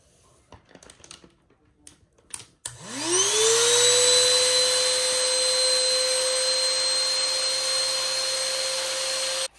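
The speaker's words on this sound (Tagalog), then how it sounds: "Tapos, lagay ko dito sa vacuum bag. Tapos, i-vacuum natin para less space." Vacuum cleaner switching on and ramping up to a loud, steady whine with a rising tone as it sucks the air out of a vacuum storage bag holding a washed comforter, running alone after some quiet handling noises.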